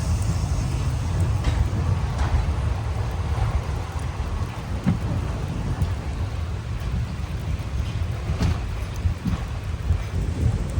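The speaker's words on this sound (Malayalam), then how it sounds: "ഈ ഒരു ചെറിയൊരു ചാറ്റൽ മഴ." Light monsoon drizzle along the Talguppa–Shivamogga passenger rail route in Karnataka, a continuous hissing wash over a low rumble with scattered faint ticks, steady throughout and no clear talking.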